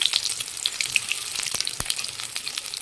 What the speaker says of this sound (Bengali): তেলটা গরম হয়ে গেছে, আমি এই ডিম দুটো ছেড়ে দেবো তেলে